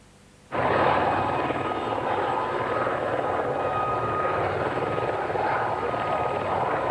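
A helicopter starts up abruptly after a quiet moment and then drones on steadily and loudly with its broad rotor and engine roar.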